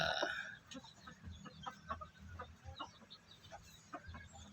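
Two young pullet chickens cluck softly and intermittently, close by, with short scattered calls over a low background hum and no talking.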